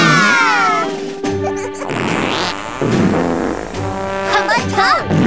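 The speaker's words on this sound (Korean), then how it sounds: "왕방귀 발사!" Cartoon fart sound effect in an animated children's show, a loud buzzing blast with wobbling pitch, followed by a crash-like burst and more bright, sliding comic tones as voices shout and cheer throughout.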